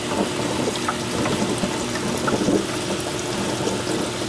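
Water running continuously over an algae scrubber screen lit by LED bars on a saltwater reef tank, a steady close trickling and splashing wash with no pauses.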